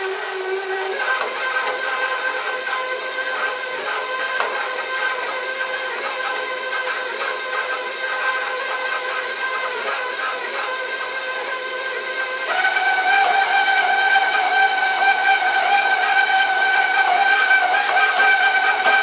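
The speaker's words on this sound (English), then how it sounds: "I just need to beat the butter till it gets a little creamy" An electric mixer beating butter gives off a continuous loud mechanical whir with steady tonal hum, stepping up in pitch and volume partway through as the speed increases, with no talking.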